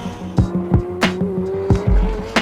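A McLaren Senna GTR race car with a 4-liter twin-turbocharged McLaren M840TR V8 drives past, a steady engine tone broken by sharp, regular bursts and a few tire squeals.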